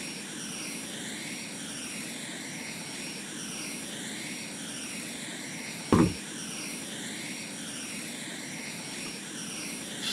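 A jet pack in DayZ roars with a steady, engine-like whooshing drone that wavers slowly in pitch, continuous and close, broken once by a brief sharp thump partway through.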